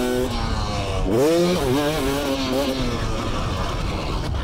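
A Beta RX 350 two-stroke dirt bike engine revs up sharply, its pitch rising and falling in a quick buzzing burst, then settling into a steady drone.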